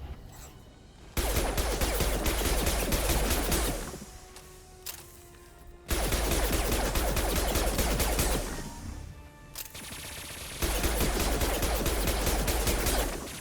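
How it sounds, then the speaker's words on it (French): Machine gun fire in the video game Mass Effect 2, loud sustained bursts of rapid automatic shots broken by short pauses, with no voices over it. "Oh Liara, tu me fatigues avec tes mitraillettes"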